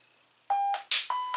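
Shot timer beeps at a pistol range during a Glock 23 Gen4 drill: a sustained tone, a short burst, then another longer tone, loud and near, following a quiet moment, no voices.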